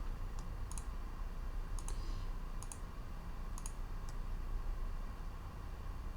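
Computer mouse clicking while prepping a mix in audio software, a series of sharp, close double clicks in small bursts spread across the clip over a faint steady hiss, with no talk.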